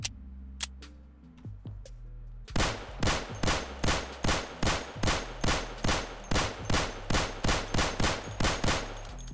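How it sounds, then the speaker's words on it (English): Glock pistol from a modded weapon pack in the game Unturned, fired in a fast, steady run of about seventeen loud, evenly spaced shots after a couple of scattered clicks and quieter sounds. "Check out this Glock."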